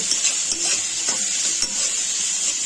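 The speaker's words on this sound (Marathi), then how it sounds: "आता कांदा गुलाबी होईपर्यंत आपण त्याला परतवून घ्यायचा आहे" Chopped onion with ginger garlic paste sautéing in a pan, a steady bright sizzle with a few soft scrapes of a spoon stirring, close and continuous, no voices.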